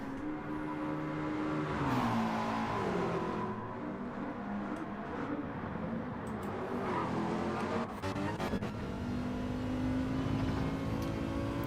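Race cars in Gran Turismo 7 lapping the Orosei circuit in an online league race, engines whining and revving continuously with rising and falling pitch through gear changes, loud and close with overlapping cars.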